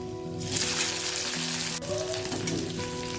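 Onion and garlic sizzle hard in hot oil in a wok, a loud, dense, steady hiss that flares up as the onion hits and carries on close and continuous without any talk.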